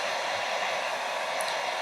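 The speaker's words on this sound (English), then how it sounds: "this is where your hairdryer or heat gun comes in" A hair dryer blows steadily and loudly close by, warming chocolate in a mould with a continuous airy roar that never changes over the short stretch, with no talking.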